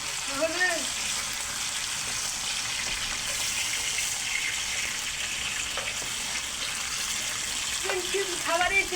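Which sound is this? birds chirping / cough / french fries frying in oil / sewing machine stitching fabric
french fries frying in oil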